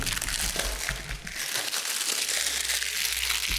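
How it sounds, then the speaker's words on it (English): Plastic wrapping is peeled and crinkled off a OnePlus 8 phone box with an unboxing knife, a close, continuous soft rustling and crackling. "Let me first go ahead and peel off this plastic wrapping that is around the box with my trusty unboxing knife."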